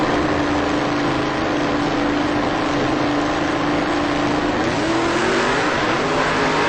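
Drag race cars roar off the line: a nitrous car and a turbo 1989 Mustang from Alabama. The engine noise is loud, dense and unbroken, with a rising pitch shift toward the end.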